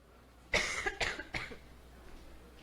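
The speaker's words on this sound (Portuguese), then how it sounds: "se eu parar para tossir, vocês me desculpem" A woman coughs three times in quick succession during a church service, sharp close bursts spaced about half a second apart, followed by quiet room tone.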